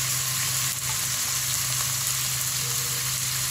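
Papaya pieces sautéing in a hot pan for chicken tinola give a steady, close sizzle and crackle that holds evenly throughout, with no talk over it.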